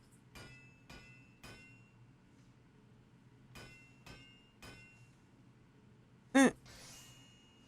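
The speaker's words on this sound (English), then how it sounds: "Go take your hammer to it." Several metallic hammer strikes from Final Fantasy XIV ring out in two spaced groups of three, each a sharp clink with a short ring, followed by a brief bright chime-like flourish near the end.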